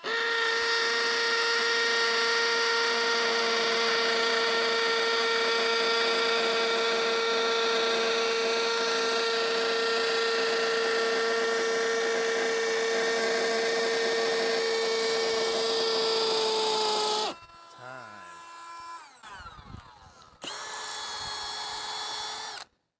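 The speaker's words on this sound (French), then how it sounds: "En vitesse 2, c'est la perceuse à percussion." A Milwaukee cordless hammer drill runs in speed 2 hammer mode with a loud, steady, high-pitched whine for about seventeen seconds, then cuts out and briefly starts again. It is close, with no talk.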